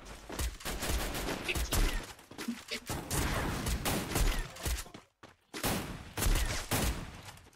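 Rapid bursts of gunfire in the Free Fire video game crackle in dense volleys with short pauses, one brief near-silent gap, while players talk faintly underneath.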